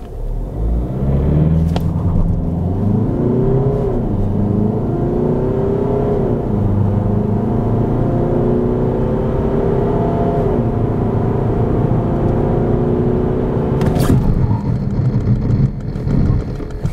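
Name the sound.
Peugeot 308 GT car driving and accelerating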